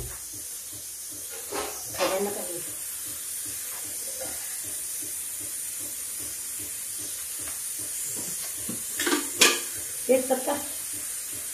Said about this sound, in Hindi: इधर हम तड़का तैयार करते हैं